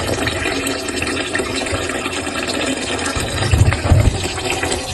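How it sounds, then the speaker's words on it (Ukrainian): Running tap water rinses freshly made butter, a steady close gushing hiss with low splashing thumps as the butter is worked under the stream, with no talk. "Вимиваємо поточну водичку."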